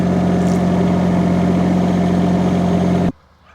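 A mini excavator engine idles loud and close in a steady, even rumble, then cuts off abruptly near the end, leaving quiet.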